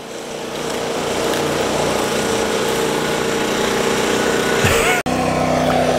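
A skid steer loader engine runs steadily and loudly on a concrete pour for a new shop, with a constant mechanical drone and a brief dropout near the end before it resumes.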